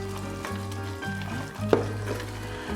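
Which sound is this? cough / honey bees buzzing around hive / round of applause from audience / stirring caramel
stirring caramel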